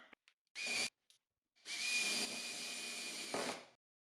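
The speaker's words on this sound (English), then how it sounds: "flip it over and drill and drive a screw" A power drill whirs in a short burst, then runs steadily for about two seconds as it drives a screw into wood, close by.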